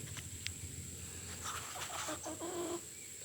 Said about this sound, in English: Chicken! It's being mean to me.